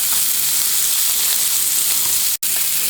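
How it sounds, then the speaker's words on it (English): Fillet steak sears in a hot pan, giving a loud, steady, dense sizzle that runs throughout, broken only by one abrupt split-second dropout near the end. "So once you achieve that nice little sear, go ahead and turn it around"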